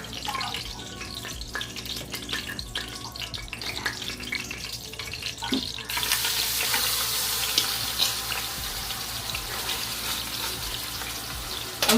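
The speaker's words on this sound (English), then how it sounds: "I'm about to sear the roast." Pot roast sears in an Instant Pot. The sizzle starts faint under kitchen clatter and running water, then rises into a loud, steady hiss for the second half.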